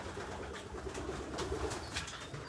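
An old racing pigeon at a race loft gives faint, low cooing, a few soft repeated coos close by against quiet background noise.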